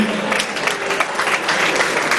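Dense applause from an audience at the Miss Burundi 2022 pageant, greeting the candidates after their project presentations, steady and sustained throughout the short stretch with no voices over it.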